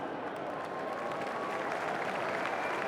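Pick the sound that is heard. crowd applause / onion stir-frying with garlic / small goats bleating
crowd applause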